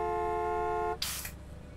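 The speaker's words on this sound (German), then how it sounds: "jetzt hupt mich an hier" A car horn honks once in Gas Station Simulator, a steady tonal blast of about a second that cuts off abruptly into a burst of hissing noise.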